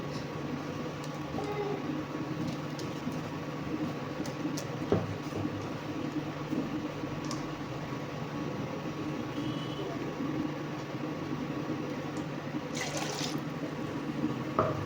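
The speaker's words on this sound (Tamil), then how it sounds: "தேவையான அளவு தண்ணி ஊற்றிக்கோங்க." Water poured into ground masala for a fish curry, a low steady trickle running under constant kitchen background hum for about fifteen seconds, faint and close.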